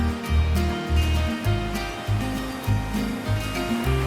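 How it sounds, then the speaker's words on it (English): Ocean waves break on the shore along the coast near the Cape of Good Hope, South Africa, rolling in repeated low surges that swell and fade in a loose rhythm, fairly close and moderately loud, with no voices. "It's just waves crashing."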